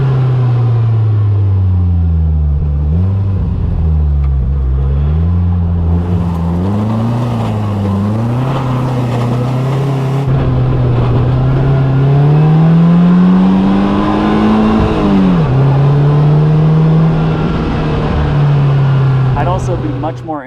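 Polaris Slingshot three-wheeler engine revving while driving through the Malibu hills, a loud, sustained drone rising and falling with throttle and gear changes, close and dominant throughout.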